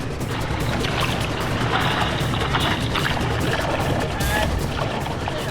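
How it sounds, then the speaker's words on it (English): Surf at Bondi Beach rolling in, a broad steady wash of breaking water that stays loud and continuous throughout, with a brief brighter splash near the end. "few waves rolling in now"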